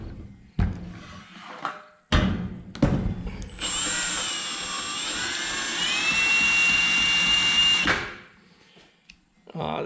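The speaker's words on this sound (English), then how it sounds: "The drill seems fairly decent." A cordless drill powering an ice auger whirs steadily for several seconds, its pitch rising partway through, after a few short bursts of speech and handling noises.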